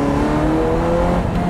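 Ferrari 355 V8 fitted with an aftermarket exhaust, revving hard with a dense, high-pitched wail that holds steady and loud through a short burst, heard close with no talking.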